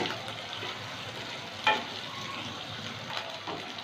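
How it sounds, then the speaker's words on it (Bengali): Pieces of bone-in chicken with chopped green chilies fry on a high flame for chili chicken, giving a continuous, moderate sizzle with one brief metallic clink of a utensil partway through. "2 মিনিট একটু ভেজে নেব। এই সময় আঁচটা হাই ফ্লেমে থাকবে"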